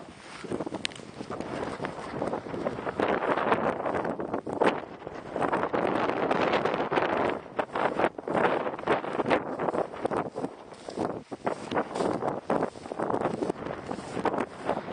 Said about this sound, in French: il y a tellement de vent là, et il arrive justement face à moi